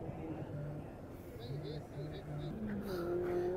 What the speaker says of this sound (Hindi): ये देखें जी, ये गाड़ी गई।